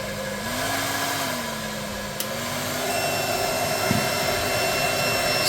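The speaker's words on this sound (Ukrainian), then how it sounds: "Включаємо друге положення фена." A hair dryer running on its second, higher setting, powered through a DATOUBOSS TY PSW 4000 pure sine inverter from a battery, gives a steady, loud airflow roar with a constant motor hum throughout, no talking.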